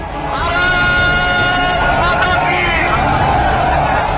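Dense crowd noise from a street protest by Hindu organisations in Delhi, loud and continuous with overlapping voices and shouting, sustained throughout without pause.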